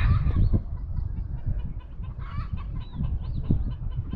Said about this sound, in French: C'est la première jour qu'on a les poules qui crient comme ça.